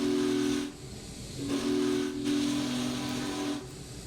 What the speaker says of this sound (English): We'll blow this whistle again.